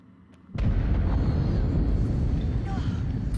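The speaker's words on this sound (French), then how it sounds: "C'est sûrement l'explosion que le Mike a fait en haut." Deep explosion in the video game Until Dawn, a sudden heavy boom that rolls into a sustained low rumble like an earthquake and keeps rumbling to the end, with faint voices underneath.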